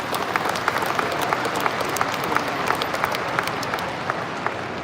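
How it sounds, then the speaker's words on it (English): Sustained, dense applause from a large audience at a Pearland High School graduation ceremony, a steady close wash of many hands clapping that carries through the whole stretch with no speech. "Please give them a round of applause."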